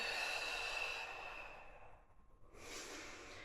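A long, steady exhale during a bodyweight workout, breathy and close, broken by a short near-silent pause before a fresh airy breath resumes.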